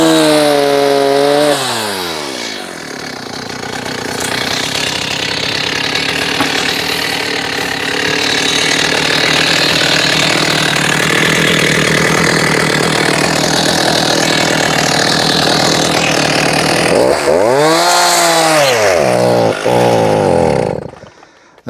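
A gas chainsaw cuts through an uprooted shagbark hickory log, revving up loudly at the start, holding a long, steady, rough whine through the wood, then dipping and surging again before cutting out near the end.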